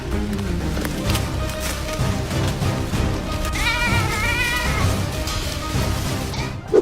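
Repeated high, wavering bleats of a young goat ring out over a busy, continuous background of other animal noise.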